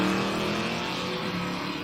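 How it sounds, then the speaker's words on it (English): A drag-racing Malibu station wagon doing a wheelstand pass down the racetrack, its engine a loud, sustained roar with steady tonal bands, close and continuous. "Our next pair on the way down the racetrack, the Wheelstanding Malibu station wagon on the left-hand side"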